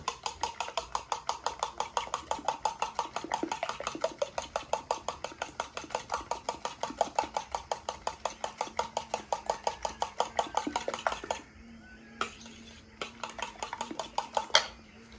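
A fork whisks quickly in a bowl, probably eggs, with a steady fast clatter of rapid close strokes for about eleven seconds. A few separate taps follow after it stops.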